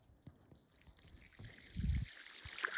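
Quiet trickling irrigation water from a running pump motor flows steadily, rising briefly into a fuller gush near the end, with faint rustling around it.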